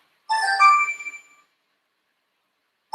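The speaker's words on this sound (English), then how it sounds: "I'm not answering the phone right now." A phone ringtone sounds as one short harmonic chime burst lasting about a second and fading out, followed by silence, then the start of another ring at the very end; no talking over it.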